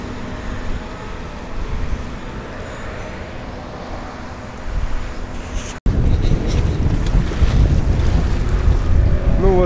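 Wind buffeting the microphone with water sloshing around a yacht in Buenos Aires, a steady rushing roar that cuts out for an instant, then returns louder and rougher.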